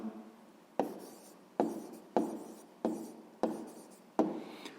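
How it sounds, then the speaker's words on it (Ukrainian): A pen writes an answer on paper during a sixth-grade math exercise in quiet, close strokes. Six evenly spaced scratches each start sharply and fade, with no talking. "Ну що ж, записуємо відповідь."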